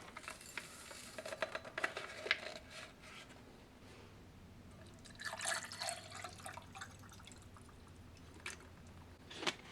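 Water poured and stirred into a strawberry sports drink mix from a Canadian military ration pack, a quiet trickle and splash followed by soft sloshing and stirring in bursts.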